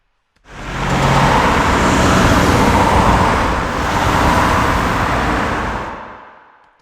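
Layered city street traffic with long street reverb, a dense continuous roar of cars and vehicles that swells in loudly, holds steady for several seconds with a slight dip, then fades out smoothly.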